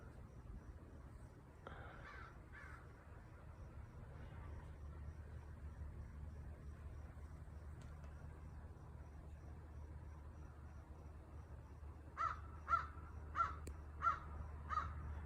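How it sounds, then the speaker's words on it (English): A series of crows cawing in a quick run of harsh calls, fairly close, with a few earlier faint caws over steady low background rumble. "the crows fly over and talk to us and bring us little presents"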